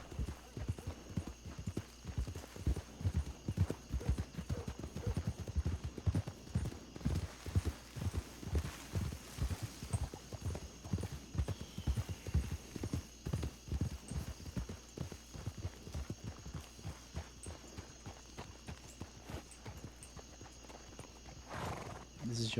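Horse hooves clip-clopping in a Red Dead Redemption roleplay around the town of Armadillo, a steady rhythmic trot of hoofbeats close by and continuing throughout, with a brief neigh and light background ambience.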